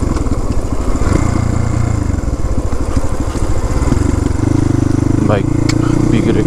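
A Crossfire RM250 motorcycle engine drones loudly and steadily on a road near Sarangkot, Pokhara, its pitch rising as the bike pulls, with wind noise over it.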